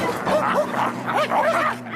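Cartoon dogs bark and yip in quick, bouncy bursts, close and moderately loud over a busy animated soundtrack backdrop.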